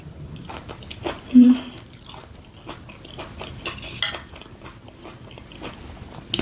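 Someone eats cooked goat's beard, a wild vegetable, with soft close bites and chewing, plus a light clink of cutlery against a dish in a quiet room.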